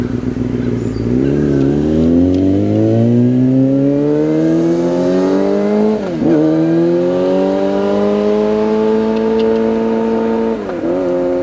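A car engine revs up loudly nearby, its pitch climbing steadily with a few brief gear-change dips, like vehicles passing close on a road, with no talking.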